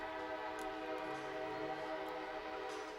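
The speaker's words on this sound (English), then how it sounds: "They just take the train whistle." A train whistle blown at a baseball game gives a sustained, fairly faint tonal blast that holds steady for several seconds over crowd ambience.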